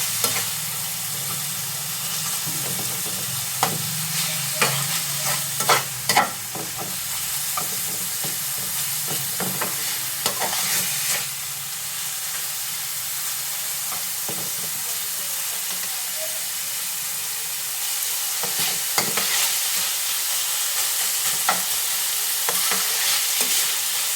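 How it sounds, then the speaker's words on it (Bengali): Stuffing sizzles and fries steadily in a pan, a continuous close hiss broken by occasional clinks and scrapes of stirring, with no talking. "ভালো করে ফ্রাই করে স্টাফের মধ্যে ভেতরে দিয়ে এগুলোকে একদম ভালো করে ফ্রাই করে"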